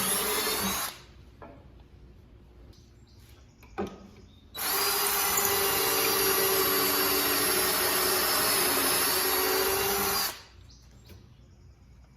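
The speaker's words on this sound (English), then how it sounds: "We're gonna go ahead and put a couple pocket holes in. Okay, now we're ready to drill" A power drill whirs loudly and steadily for about six seconds drilling pocket holes in wood with a Kreg pocket-hole jig, bracketed by quieter shop noise and a few clicks before and after.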